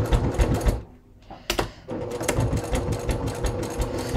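A sewing machine stitches a seam through two layers of leather, a loud, close, steady mechanical whir that pauses briefly and then resumes at a constant rapid rhythm.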